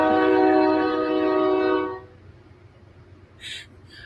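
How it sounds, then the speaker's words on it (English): Train passing outside, with a loud, harmonic horn blast filling the first two seconds before it cuts off and leaves a low rumble with faint, brief high chirps. "My apologies if the train rolling by is blowing out everybody's audio."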